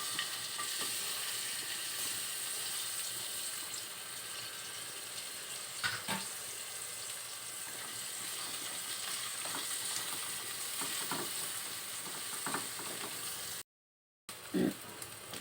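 Onion and garlic fry in a pan for an egg sotanghon soup with sayote, giving a steady broadband sizzle with occasional stirring clinks and scrapes, continuous and close, with no talk.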